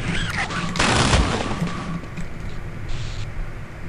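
Gunfire in the video game U.S.S. Darkstar: a loud close burst of rapid shots followed by lingering rumbling blasts and noisy game sound.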